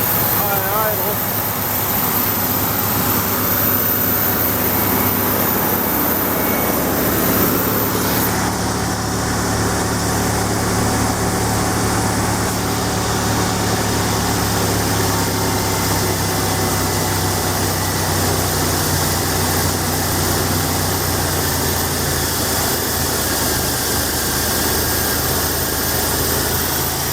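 A 1981 Ford Ranger with the 300 six-cylinder engine idles steadily and loudly up close, a constant mechanical drone with a slight shift in tone partway through and no clear talking.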